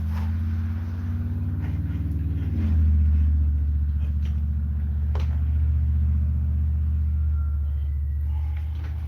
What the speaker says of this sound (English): Somebody coming down the hill there with their loud pipes.